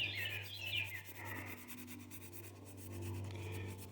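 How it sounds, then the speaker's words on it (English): Steel wool rubs and scrubs steadily on the cylinder head of a 19.5 hp Briggs and Stratton engine from a John Deere LA115 mower, making close, continuous scratchy abrasion with faint squeaks over a low background hum. "I'm going to start trying to clean up this head a little bit with steel wool."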